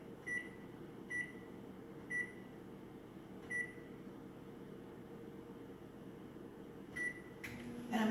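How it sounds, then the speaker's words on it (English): A microwave oven hums steadily while heating a cup of plain water, with a series of short electronic beeps at irregular intervals and a clunk near the end as the oven stops. "you fill it with just plain water and you put it in the microwave"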